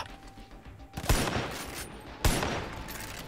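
Gunfire in the video game Far Cry 5: two sharp, loud bursts about a second apart, each trailing off into a noisy decay over a low background.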